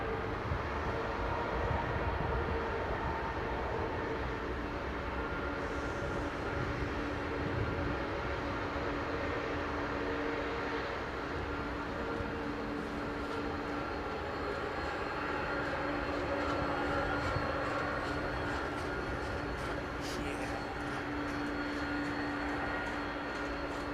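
A jet airliner rolling out after landing at London Heathrow Airport in a crosswind, a broad, sustained distant engine roar with a faint steady whine, holding level across the whole stretch.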